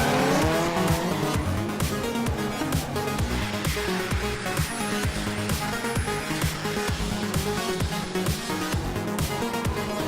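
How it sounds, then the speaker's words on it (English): Loud, continuous squealing of tires from drifting cars at a drift event, layered with roaring engines, sustained for the whole stretch without a break. "Drifting is one of the most exciting motorsports on the planet, but requires a totally different driving style to any other."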